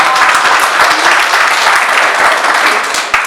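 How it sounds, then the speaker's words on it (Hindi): A loud, dense burst of applause rises from an audience at a televised political panel event, steady and close throughout. "उनके लिए एक बार जोरदार तालियां"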